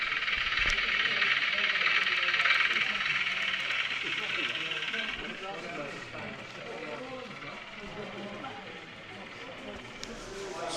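Small electric model railway engines run with a steady hiss and faint rattling hum, close by, on a modular layout at a model railway show, while a voice talks over them.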